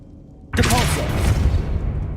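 The Depulso spell cast in Hogwarts Legacy, silence broken by a sudden loud booming blast that rings out and rumbles on, with a voice briefly over the impact.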